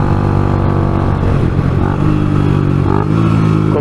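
A Suzuki Intruder 125 custom motorcycle engine runs steadily while riding, a loud continuous drone with a slight rise in revs, close and alone without talk.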